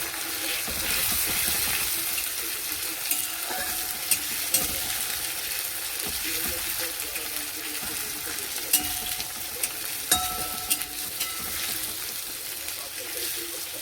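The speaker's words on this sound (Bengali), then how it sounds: "আদা রসুনটা একটু ভেজে নেব" Ginger and garlic paste fries in hot oil in a home kitchen, crackling and sizzling steadily up close with scattered sharper pops and stirring clatter throughout.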